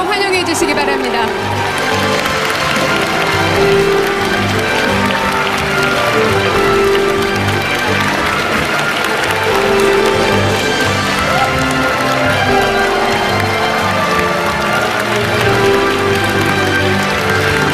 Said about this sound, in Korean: 더욱 뜨거운 박수로 환영해 주시기 바랍니다